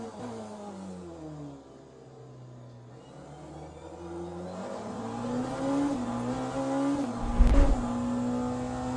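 Race car in Le Mans Ultimate on a slippery track, its engine rising in pitch through repeated gear changes and sustained revs, with a brief loud thump near the end.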